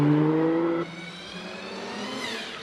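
A powerful maroon Jaguar E-Type race car screams up the Prescott hill climb, its loud engine howling and then dropping away as the car pulls off into the distance.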